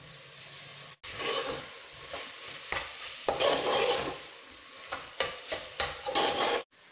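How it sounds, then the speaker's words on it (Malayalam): Masala and chopped tomatoes sautéing in a pan for beef biryani, a steady close sizzle with repeated scraping stir strokes, loud and continuous apart from a brief cut near the start and end, with no voices. "ഇനി ഇതിൻ്റെ പച്ചമണം മാറുന്ന വരെ നമുക്ക് നല്ലപോലെ ഒന്ന് വഴറ്റി കൊടുക്കാം"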